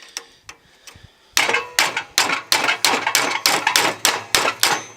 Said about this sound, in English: I'll open up the spring eye by just shoving a wedge in there.